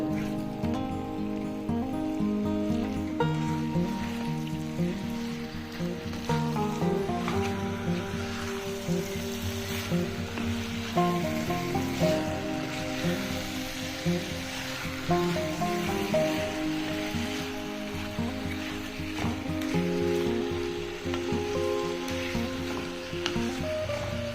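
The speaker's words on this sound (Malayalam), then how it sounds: "ഒരു 5 മിനിറ്റെങ്കിലും നമ്മൾ ഇതേപോലെ ഇങ്ങനെ വഴറ്റി കൊടുക്കണം, ഇത് ഇളക്കി ഇളക്കി." Chicken roast masala sautés and gets stirred in a hot pan, giving a steady soft sizzle with occasional scraping under continuous background music.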